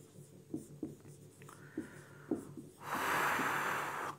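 Writing out notes on magnet properties during a Class 12 physics lesson: a few soft taps give way to a steady, close scratching of pen or marker that runs through the final second and a half, with no talk.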